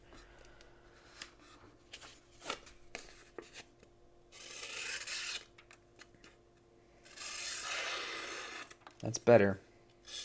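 A knife blade is stroked along a strop in two long rubbing passes, soft and close, with scattered clicks and handling sounds, a sharp knock near the end, and someone speaking briefly.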